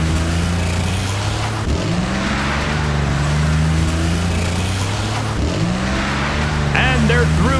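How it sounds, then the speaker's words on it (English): Cartoon monster trucks race around a track with loud, continuous engine roars that rise and fall in pitch as they rev and accelerate, while a commentator talks over them. "As they round the turn, there's Dan trying to catch up to the other monster trucks."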